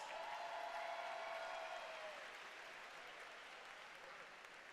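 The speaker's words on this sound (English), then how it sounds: "Give her a round of applause." Steady applause from the crowd at a high school swimming championship finals session, filling an echoing indoor pool hall at moderate volume and easing slightly toward the end, with a faint whistle-like tone early on.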